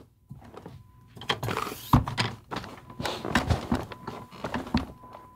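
A Secretlab Titan Evo 2022 gaming chair's piston creaks and thunks as the sitter shifts and turns, a series of irregular close creaks and knocks, fairly loud in a quiet room.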